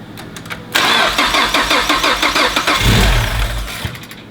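A Mazda Miata fitted with a 2.5 engine cranks with a rapid rhythmic starter chug for a few seconds, then catches and fires into a rough running idle, loud and close with no talking.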